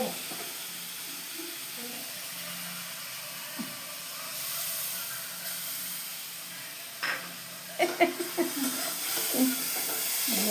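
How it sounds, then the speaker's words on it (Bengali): A spice mixture hits a hot pan and sizzles with a steady, soft frying hiss, followed by a few clinks and scrapes of stirring near the end, with faint voices in the background. "মশলার মিশ্রণগুলো দিয়ে দিচ্ছি।"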